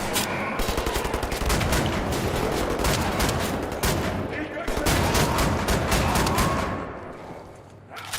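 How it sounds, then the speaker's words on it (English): Shotgun fire in the first-person shooter Wolfenstein: The New Order, loud repeated blasts in a steady rhythm over a thick layer of battle noise, with a voice briefly audible underneath and the shooting thinning toward the end. "That'd be a shotgun then."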